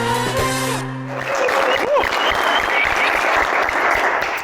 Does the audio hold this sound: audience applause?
yes